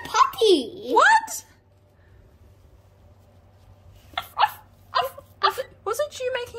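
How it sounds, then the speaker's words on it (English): A puppy barks and yips in a short burst of sharp, high barks after a quiet gap, following a voice talking earlier. "It's a puppy."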